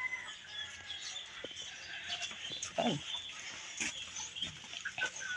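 Backyard chickens cluck and squawk in short scattered bursts against a faint outdoor background, with a brief spoken word among them.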